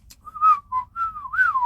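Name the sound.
person whistling to imitate a catcall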